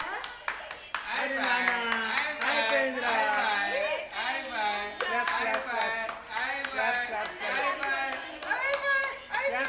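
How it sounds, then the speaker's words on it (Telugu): Hands clap in quick bursts at a child's first hair-tonsure ceremony, partly buried under overlapping chatter from children and adults close by. "చప్పట్లు కొట్టు"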